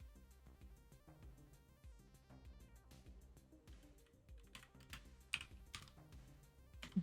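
Steady computer-keyboard typing with rapid, irregular keystrokes close by, a few louder key hits near the end, no talking.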